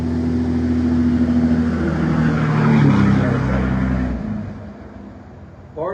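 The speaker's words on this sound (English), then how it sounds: "Pardon the noise, a big truck without a muffler." A big truck with no muffler roars past close by, a loud, rough low rumble that swells over about four seconds and then fades away, with faint voices underneath.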